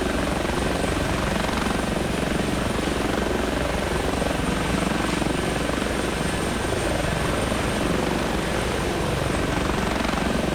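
Steady, loud whine and thump of an H145 helicopter's engine and rotor in the X-Plane 11 flight simulator, a continuous dense drone that holds evenly throughout with no talking.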